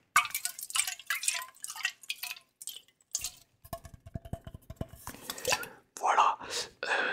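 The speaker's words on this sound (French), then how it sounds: "j'ai pris un spray pour vous arroser les cheveux" A spray bottle mists water onto hair in a home haircut setting, a quick run of short close pumping sprays amid soft whispering and light handling sounds.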